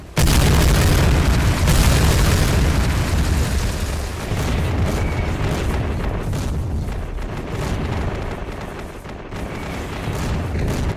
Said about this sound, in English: The Miklik detonation explosively breaches a lane 17 meters wide and 120 meters long